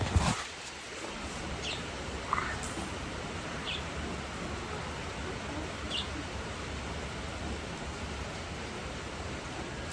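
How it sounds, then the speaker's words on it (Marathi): Heavy rain pours in a dense, steady hiss, with a few faint chirps and a brief knock at the start. "तिथं पाऊस आलेला आहे लई जोरात"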